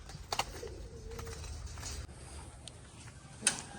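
Pigeons coo softly on a rooftop where they are put out in the sun, low murmuring calls alongside a few sharp clicks and a brief flutter near the end.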